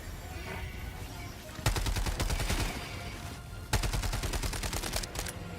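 Two loud bursts of rapid automatic gunfire in a video game, each lasting about two seconds with a quiet gap between, heard over faint background ambience and a voice.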